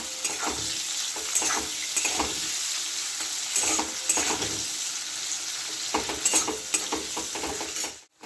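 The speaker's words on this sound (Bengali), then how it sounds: "এবার আমি পেঁয়াজগুলো ভেজে নেবো" Onions fry in a pan with a continuous crackling sizzle, broken by repeated scraping stir strokes of a spatula against the pan, close and fairly loud with no talking.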